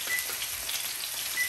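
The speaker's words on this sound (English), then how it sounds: "I'm just gonna allow it to fry for 5 minutes on one side and then flip it" A spinach-stuffed chicken breast frying in a pan gives a steady, quiet sizzle of fine crackles and pops that runs evenly throughout with no talking.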